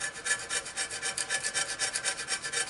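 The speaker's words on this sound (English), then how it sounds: "I like these fairly thick, stiff bladed putty knives. They make a real good gasket scraper for me" A stiff, thick-bladed putty knife scrapes old gasket material and corroded aluminum off a Detroit Series 60 engine surface, a close, rhythmic series of quick rasping strokes, about six per second, with no talk.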